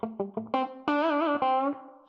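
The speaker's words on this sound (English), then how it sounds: "All of a sudden, you've got more of that distortion that I think is just really nice and can cut through" An electric guitar plays with distortion: a short run of picked notes, then sustained, gritty, saturated tones with slight wavering. It sounds close and alone.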